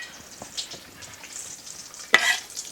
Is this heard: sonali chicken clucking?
no